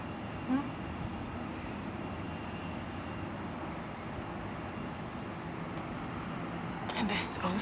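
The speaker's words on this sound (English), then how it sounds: "I think that's an airplane getting ready to move too." A large airplane idles at Montego Bay airport in Jamaica, a faint, steady distant engine rumble heard alongside soft nearby talk.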